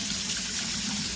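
Rice being washed in water, a close continuous sloshing and running-water wash without speech.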